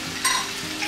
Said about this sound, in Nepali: यसलाई एकछिन हामीले चलाइदिउँ यसलाई तलमाथि सबै गरिदिउँ